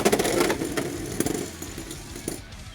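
Beyblade X tops, including a Galaxy Pegasus build, spin and clash in a stadium with a loud continuous whirring buzz and rapid rattling impacts that fade toward the end.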